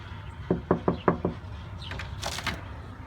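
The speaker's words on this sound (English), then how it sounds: "We'll just knock on the door and find out." Five sharp knuckle raps land on a wooden house door in a quick even series, close and clear, followed by faint rustling.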